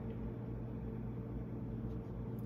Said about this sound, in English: most of what you're hearing is the refrigerator and the freezer in the background